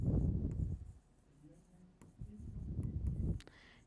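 Marker or chalk scratching across a classroom board during a chemistry lesson, in bursts of strokes with short pauses, close and moderately loud.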